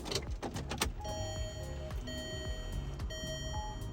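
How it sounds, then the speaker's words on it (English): A car powering on with a MINIX CP89-HD CarPlay adapter connected: a cluster of clicks, then a series of short electronic chime tones over low engine hum, fairly quiet and close. "Turn the car on."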